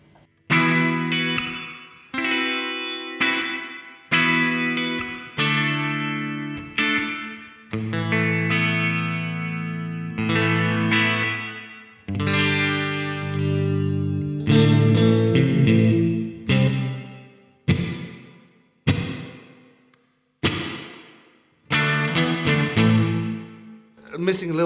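A guitar played through a Xvive mini plate reverb pedal, chords and notes ringing out with a smooth, bright wash of echoing tail, bursts separated by short pauses.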